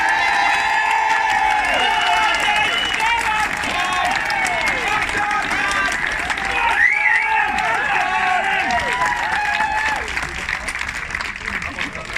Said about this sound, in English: the most important round of applause, and I think you'll all agree with me, must go to these two chaps, Nathan and Tom.